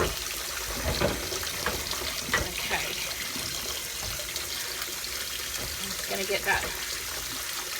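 Hot tap water runs steadily into a sink to soak labels off jars, a continuous splashing wash under a person speaking briefly.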